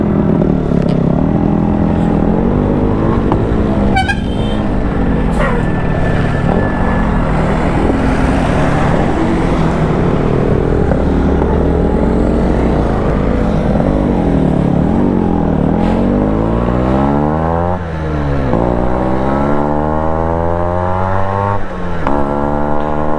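A Yamaha RX-King motorcycle with a Y1 engine rides along, its loud, continuous engine note rising and falling as the revs climb and drop, with rough wind and road noise and no voices.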